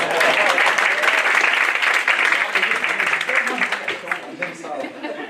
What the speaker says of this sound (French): Est-ce qu'on peut applaudir la courage?